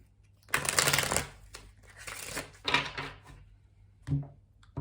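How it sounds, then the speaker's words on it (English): A deck of tarot cards is shuffled close by in a few quick riffling bursts, separated by short pauses, with a soft tap at the end. "Okay, we'll do one last shuffle."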